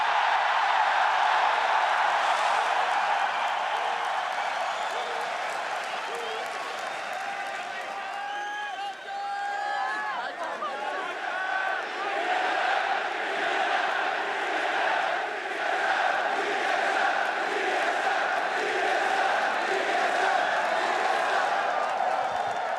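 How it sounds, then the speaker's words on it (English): Dense esports arena crowd at a League of Legends NA LCS playoff final between TSM and Cloud9, cheering and roaring continuously and loudly throughout, with a brief dip midway and voices mixed into the din. "Dude, this crowd is nuts."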